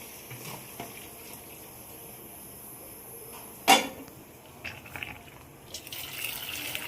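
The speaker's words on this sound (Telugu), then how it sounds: "వాటర్ అంతా సపరేట్, చికెన్ సపరేట్ స్టేన్ చేసుకోవాలి" Boiled chicken for chicken mandi biryani is strained, its cooking water draining away in a steady, moderately quiet pour, with one sharp clatter of a pot or strainer midway and a slight swell of splashing near the end.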